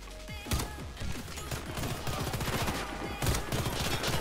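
Automatic weapon fire rattles in the first-person shooter Warface, a McMillan CS5 loadout, long bursts of rapid shots with sharper heavy cracks near the start and end, sounding fairly faint under game noise.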